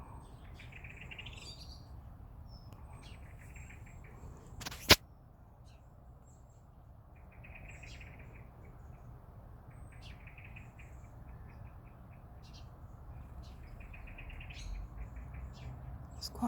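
Small birds chirp in short, repeated bursts from a hedge of hawthorn and little trees near a cottage beside a stream, fairly faint over a low outdoor rumble, with one sharp click partway through.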